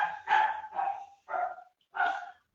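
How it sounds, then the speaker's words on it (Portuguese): A neighbour's hungry dog barks five times in short, separate bursts with brief pauses between them, close and fairly loud, with no talk over it. "Esse cão aí é o cão do vizinho, que eu acho que ele tá meio com fome, aí ele fica latindo aí toda hora."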